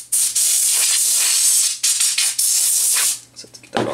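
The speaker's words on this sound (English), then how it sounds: "just kind of grab my spray stuff and spray this out" Bursts of compressed-air spray blasting dust out of an Incase protective cover for an iPhone 3G/3GS: loud, close hissing in several long blasts with brief gaps, ending in a short final puff.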